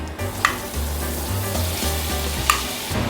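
Three tablespoons of butter melt in a hot pan for bacon mac and cheese, giving a loud, continuous sizzle and bubbling with a couple of light utensil taps.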